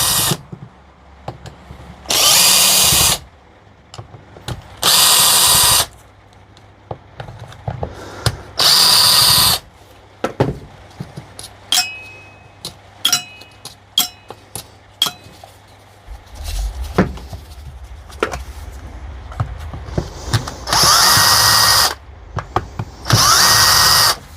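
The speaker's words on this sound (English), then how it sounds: "Just get all the screws out and get everything to bits totally." A power tool whirs in repeated short bursts while screws are backed out during the teardown of a Makita impact wrench, with metallic clinks of parts and screws between the runs, close and loud with no talk.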